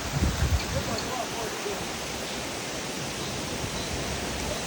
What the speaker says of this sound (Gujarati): આ ધોધ મિની ધોધ